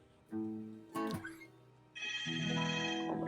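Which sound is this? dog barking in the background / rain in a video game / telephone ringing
telephone ringing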